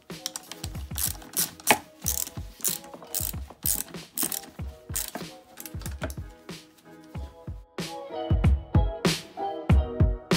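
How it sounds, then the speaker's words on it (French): Ratchet wrench tightening bolts on the handlebar of an electric pocket motocross bike during assembly, with a steady run of close, loud clicking strokes and brief pauses between bursts. "Vas-y, tu peux commencer à serrer."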